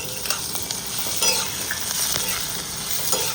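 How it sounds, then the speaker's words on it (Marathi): Green chillies and garlic sizzling in oil in a pan, a continuous close, bright frying hiss with occasional stirring scrapes and pops, no talking. "आता याच्यात मी थोडंसं तेल घालणार आहे."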